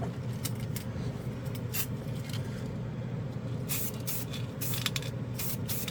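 Matte black acrylic aerosol spray paint hisses in repeated fine bursts of varying length over a steady low rumble, close and fairly loud.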